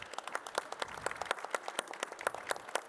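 A small audience at a talk on sustainability as a business claps for a few seconds, the separate hand claps distinct and irregular, fairly quiet and unaccompanied by speech.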